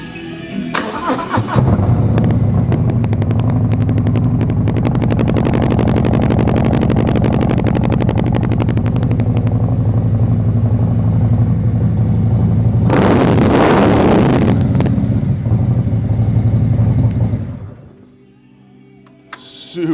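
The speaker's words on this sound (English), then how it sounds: "Super nice sound of the exhaust system." A customized 2018 Harley-Davidson Road Glide S V-twin fires up and idles loudly with a deep, steady exhaust rumble, swelling briefly with a throttle blip near the end before cutting off.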